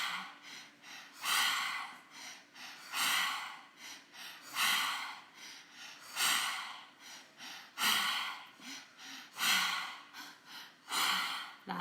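Deep rhythmic breathing during a breath work exercise, with strong forceful inhales and exhales repeating about every one and a half seconds, close and loud with no talk.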